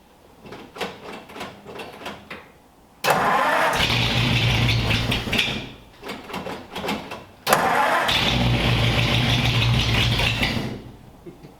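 A car engine cranks and fires up twice. Each start is a sudden loud catch that settles into a rough, revving run before cutting off, and quiet clicks come before the first start.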